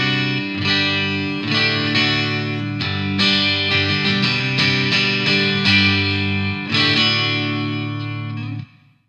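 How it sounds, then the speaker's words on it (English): Les Paul Ultra electric guitar with a NanoMAG pickup, treble turned fully up for an acoustic-like tone, plays ringing chords and picked notes, close and clear, fading out at the end. "get a really nice acoustic, another acoustic guitar sound"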